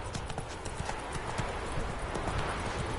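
Roach, a horse in a video game, gallops with a rapid, steady rhythm of hoofbeats thudding loud and close throughout.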